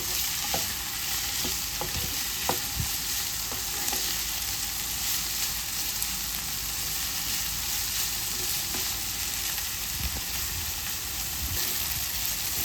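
Chopped vegetables and tomato frying in a pan for masala pasta, a steady hissing sizzle throughout with occasional scrapes and clinks of a stirring spoon, close and continuous.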